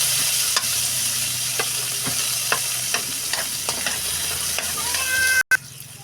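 Eggplant adobo vegetables sizzle steadily in a pan while being stirred, with a continuous frying hiss and a series of sharp utensil scrapes and clicks, ending in a brief cut.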